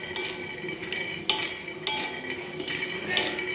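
Peanuts dry-roasting in a pan over a low gas flame, stirred steadily: continuous rattly scraping with a few sharper metallic clinks, close up and with no voices.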